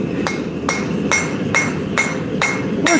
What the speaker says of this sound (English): take our good old rounding hammer, and we're just going to start